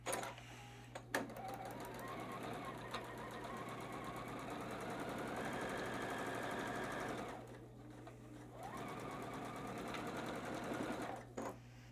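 A sewing machine runs steadily, stitching a seam across quilt fabric pieces for a space-themed quilt center, with a continuous motor hum and rapid needle rhythm that pauses briefly midway before resuming.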